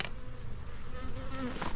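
Bees buzz steadily inside a small, sparsely populated hive, a close and continuous hum with a high, sustained whine running over it.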